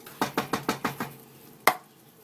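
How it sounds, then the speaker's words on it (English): A spoon stirs condensed soup into a cheese mixture in a pot, with five quick evenly spaced scraping knocks followed by a pause and one final louder knock, close by. "And just add everything together and just stir it in."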